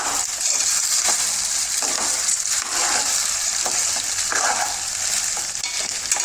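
Taro pieces cook in a pan for a tangy pulusu curry, giving off a dense, loud, even sizzle and frying hiss with faint stirring scrapes throughout.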